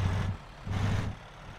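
Dump truck engine in American Truck Simulator, a low rumbling drone that swells in two loud bursts and drops back to a steadier hum between them, close and alone.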